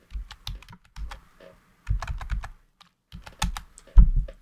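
Typing a preset name on a computer keyboard: crisp key clicks come in short bursts separated by brief pauses, close and distinct, with no talk.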